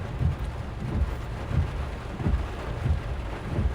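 Thunderstorm from a tornadic supercell near Fort Worth and Dallas, with steady rain and wind noise and several low thunder rumbles rolling in at intervals, heard from a roadside position.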